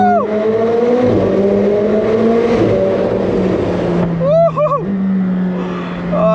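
A McLaren 765LT Spider engine revs hard inside a tunnel, loud and echoing, climbing in pitch through rapid gear changes with whoops and shouts from the occupants over it.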